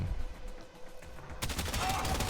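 Banshee's weapon fire in the game Warframe comes in as a sudden rapid burst partway through, following a low, quiet stretch of game ambience, and stays fairly faint overall.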